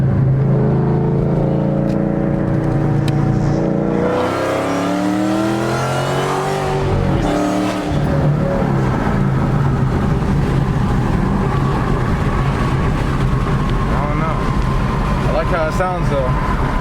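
A 2012 Shelby GT500 fitted with long tube headers revs hard and loud, its engine note climbing and falling through several sustained pulls with no popping, while a person talks over it.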